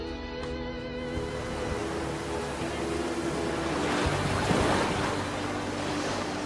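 North Sea waves roll and wash in Helgoland bay under a steady wind, with a broad, continuous roar of surf and gusting wind noise that swells slightly toward the middle.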